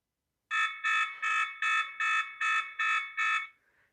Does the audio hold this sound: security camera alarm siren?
yes